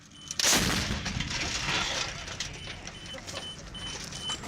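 An M777 howitzer of the 173rd Airborne fires during a fire mission in Afghanistan. A single loud, close blast hits early and then trails into a long, rumbling echo across open ground.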